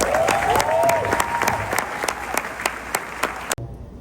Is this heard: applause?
yes